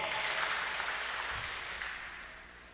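Church congregation applauding during a fundraising collection at a Kikuyu-language service in Kenya: a sustained wash of clapping hands that starts full and slowly fades over a few seconds.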